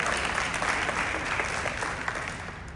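A conference audience at a mental health wellness leaders event breaks into sustained applause, a thick, even patter of many hands that tapers off slightly toward the end.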